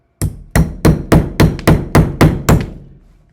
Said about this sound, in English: I have my entire body behind the momentum of the chisel before I start hammering on it.